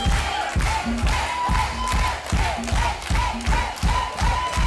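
A concert crowd at a live show in Venezuela roars and shouts in rhythmic surges, with repeated thumps pulsing through the steady din of cheering voices.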